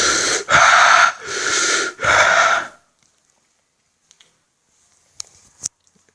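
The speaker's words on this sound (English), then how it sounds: "A breathing exercise." Four loud, sharp breaths drawn in quick succession during a breathing exercise, close and forceful, followed by near silence with a couple of faint clicks.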